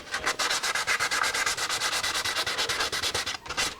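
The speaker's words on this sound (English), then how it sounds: "Now I can reach over and take a piece of 400 sandpaper." A motorcycle fairing is sanded by hand with 400-grit sandpaper: quick, steady back-and-forth rubbing strokes, close and constant, with a brief pause near the end and no voices.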